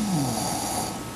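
A person snoring while asleep during an overnight sleep study, one long, steady, droning breath, close and alone.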